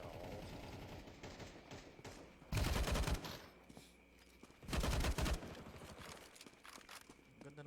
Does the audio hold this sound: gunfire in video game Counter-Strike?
yes